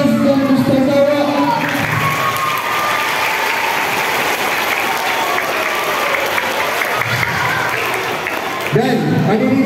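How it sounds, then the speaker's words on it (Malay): Applause from an audience at a school motivation program, a loud sustained clapping wash running through nearly the whole stretch, with a brief break near the end before it swells again. "Berikan tepukan yang paling gemuruh untuk ustaz dan ustazah."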